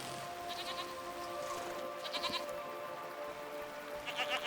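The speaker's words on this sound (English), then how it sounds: "I pet this goat" A goat in the video game Season: A Letter to the Future bleats three times, quiet and slightly distant, with short wavering calls spaced a second or two apart over a faint ambient background.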